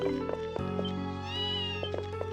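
A cat meows in the video game Ys Seven, a close, clear meow over steady game background music, with no talking.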